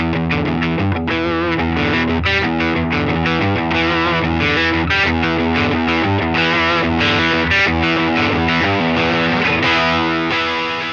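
Heavily overdriven electric guitar through an El Hombre Overdrive pedal, voiced like a Marshall Super Lead amp, playing a continuous riff with chords and sustained notes, thick and crunchy, loud and steady throughout.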